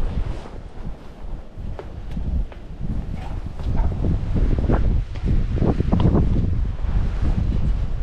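Gusty wind buffets the microphone outdoors on a tower by a WW2 bunker in Jonathan Dickinson State Park, a loud, uneven low roar that builds and swells throughout, with no talk.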